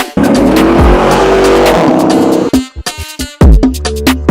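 A 2010 Dodge Challenger with a 6.1-litre, 432-horsepower V8 roars close by, a loud sustained engine burst with tire squeal, then cuts off into sharp intermittent revs and bangs.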